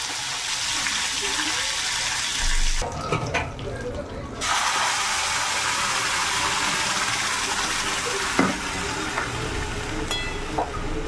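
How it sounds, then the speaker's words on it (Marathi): Dishes and pots being scrubbed and washed at a home kitchen sink, with running tap water gushing steadily and a few clinks of utensils, briefly pausing midway, under nearby household chatter. "बघा आईचे इकडे भांडे पण घासणं चालू आहेत"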